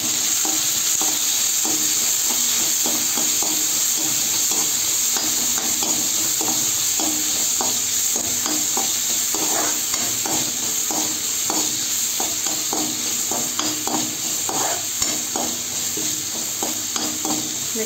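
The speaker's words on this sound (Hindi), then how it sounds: "ये तेल हो चुका है तो इसमें मैं ये सारा चीज़ डालूँगी" Tomato, chilli, garlic and curry leaves sizzle and crackle in hot oil on an Indian kitchen stove, a loud, steady frying hiss broken by frequent stirring clicks and pops throughout.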